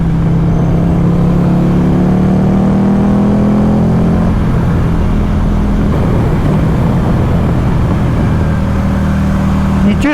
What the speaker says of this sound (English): You just want to work the gearbox all the time because you want to hear the engine change note.